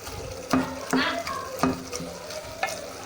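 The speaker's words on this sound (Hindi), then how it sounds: "इसको अच्छी तरह से हम मैश करेंगे" Cauliflower and potato curry with spices is mashed and stirred in a pan, with repeated thudding presses and a soft sizzle, close up with a loose rhythm of about five strokes.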